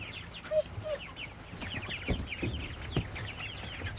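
Broiler chickens being moved out to pasture on a homestead cluck and chirp in a busy overlapping chorus, with a few louder squawks and bumps of handling in the foreground.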